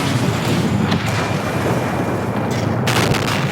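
Heavy, continuous booming impacts and rumble as a tank takes hits in a tank video game, loud and dense throughout with no pauses, a bright crackling burst near the end.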